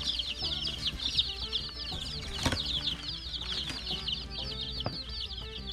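A new flock of young homestead chickens clucks and chirps steadily in a netted pen, with wings flapping in brief bursts among the high, busy chatter; one louder flap stands out midway.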